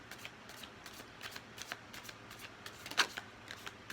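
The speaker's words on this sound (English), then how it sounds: "I'm gonna use some oracle cards, of course, to embellish your reading" A deck of oracle cards is shuffled in a tarot-style reading, a run of quiet riffling bursts with one sharper snap near the end, heard alone and close.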